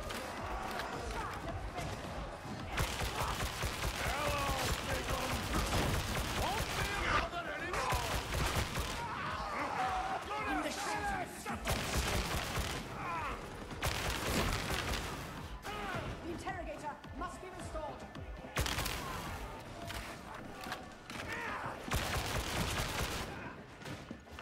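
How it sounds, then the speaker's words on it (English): Repeated volleys of gunfire in Warhammer 40k: Darktide come in dense bursts with short gaps between them, heavy and close, under game noise and voices talking. "Some good shooting there, Tex."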